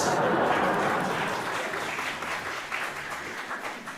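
An audience breaks into applause after a line in a speech: a dense, steady wash of many hands clapping at once, loudest at the start and gradually tapering off.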